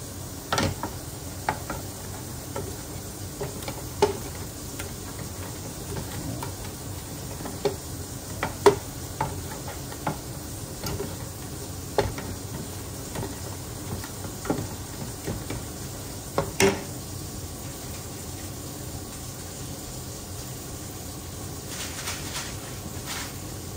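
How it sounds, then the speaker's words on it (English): A flour mixture being stirred and cooked in a pot for palabuk, a steady soft scraping and bubbling with irregular clicks of the spoon against the pot, close and continuous, no talk. "Then we need to mix and stir properly to make to even to cook the properly the,"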